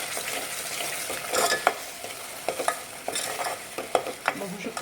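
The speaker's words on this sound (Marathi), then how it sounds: "एकदा अजून हे मिक्स करून घेऊया सगळं" Egg curry masala stirred and mixed in a sizzling pan, with quick rhythmic scrapes and taps of a spoon over a constant frying hiss, close and fairly loud.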